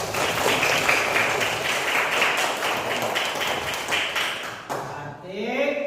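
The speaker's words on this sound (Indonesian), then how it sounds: "tepuk tangan." Audience clapping fills the room at a teacher-training session, a dense steady patter of many hands lasting several seconds before tapering off, with some faint voices mixed in.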